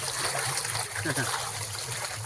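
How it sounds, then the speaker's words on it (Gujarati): Steady irrigation water flows continuously into a cotton field, with a low hum underneath and a brief voice partway through. "કેમ બાકી મસ્ત પાણી આવે છે"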